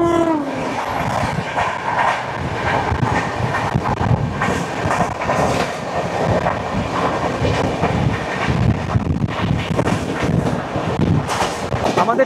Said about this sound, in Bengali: আর এই অমৃত ভারতের পেছনেই আসছে ট্রেন নাম্বার 12841 শালিমার থেকে চেন্নাই সেন্ট্রাল করমণ্ডল এক্সপ্রেস।